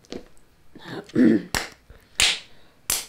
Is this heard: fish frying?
no